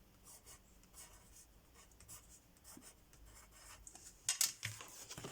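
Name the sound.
writing on paper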